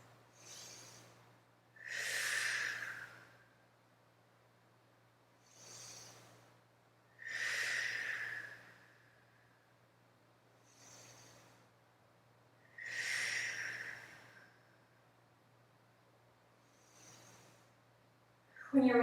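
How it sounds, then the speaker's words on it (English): Four slow, deep breaths during a yoga fitness class, each audible inhale and exhale spaced a few seconds apart, heard alone over a low steady hum in the room. "Do those 4 deep breaths."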